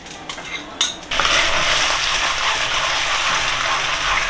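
Sweet and sour sauce hits a hot pan with a few metallic clinks, then bursts into a loud, steady sizzle as it is stir-fried, close and continuous with no talking.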